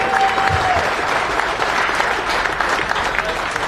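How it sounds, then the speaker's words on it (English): Audience applause at an awards ceremony, a sustained burst of many people clapping at fairly high volume, with faint crowd voices mixed underneath. "give him a round of applause"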